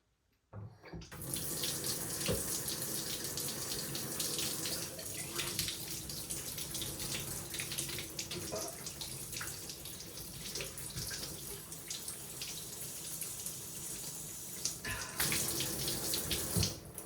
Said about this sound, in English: I can hear water moving,